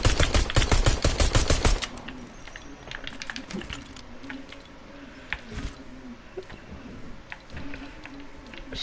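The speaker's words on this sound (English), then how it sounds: "It sounds like a real pistol now instead of like a normal ugly pistol." Pistol gunshots in Fortnite Creative, a rapid loud volley of close sharp shots at the start, then sparse fainter pops and clicks under a speaking voice.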